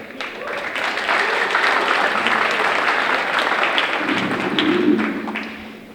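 Audience applause fills a high school Decision Day ceremony, a dense, steady wash of many hands clapping that swells after the first second and holds loud and even before easing slightly at the end.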